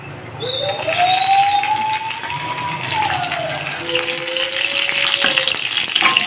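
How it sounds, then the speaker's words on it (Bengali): Garlic dropped into hot oil left from frying small fish bursts into a loud, steady sizzle that carries on close up, with a faint tonal whine running underneath. "এখন মাছ ভাজার তেলে দিয়ে দেব রসুন ফোড়ন"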